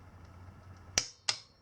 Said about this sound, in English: Let's go ahead and torque it.